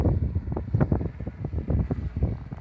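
Gusty wind buffeting the microphone at a sunny lakeside fishing spot near a boat station, rough low rumbling bursts coming and going for a few seconds, no voices.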